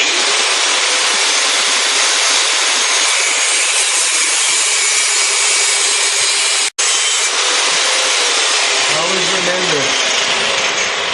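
A power tool grinds steadily through a chrome motorcycle muffler for a BSA 441 custom cafe racer, a loud continuous cutting whine broken by one brief cutoff, then winding down near the end.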